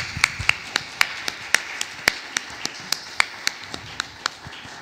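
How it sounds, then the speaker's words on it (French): A church congregation at a family Advent Mass claps sparsely, giving a steady run of sharp, separate slaps of moderate loudness with no voices over them. "On peut les applaudir."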